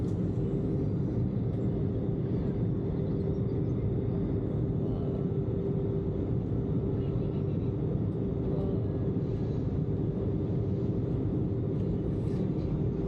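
Steady low rumble of an airliner cabin as the plane climbs after takeoff from Mexico City, a constant engine drone with a faint tonal hum, continuous and even throughout with no talk.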